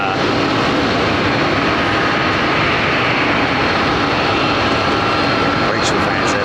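A jet airliner at London Heathrow Airport gives off a loud, steady broadband roar that fills the whole stretch without letting up, as if passing close by.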